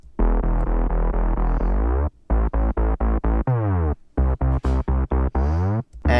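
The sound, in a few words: Synth bass line playing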